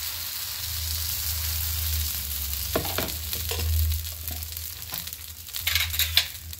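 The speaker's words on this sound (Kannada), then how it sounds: "ಕಾವಲಿ ಬಿಸಿಯಾಗಿದೆ. ಇವಾಗ 1 ಸ್ಪೂನ್ ಹಿಟ್ಟನ್ನು ತೆಗೆದು ಹಾಕು" Spinach (palak) dosa batter cooks on a hot griddle, giving a steady crackling sizzle with a low hum beneath and a few sharper spatters toward the end, close and without speech.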